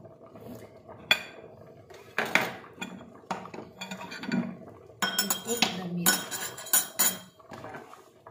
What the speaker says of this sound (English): now we put the meat